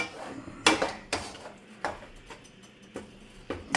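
Mushroom pork pasta being mixed in a pan, with several distinct metal utensil clanks against the pan spaced irregularly over a quiet background.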